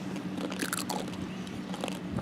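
Dry fried Mr. Noodle noodles are bitten and crunched up close, with several sharp brittle crackles in quick succession over a short stretch of chewing.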